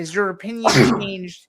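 A single sharp sneeze bursts out in the middle of a man's speech, close and loud, with talk running before and after it.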